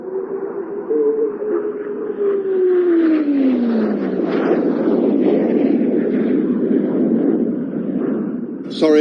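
Hawker Hunter and English Electric Canberra jets passing together at an airshow, a loud sustained engine roar with a descending Doppler whine as they sweep by, building and holding strong to the end.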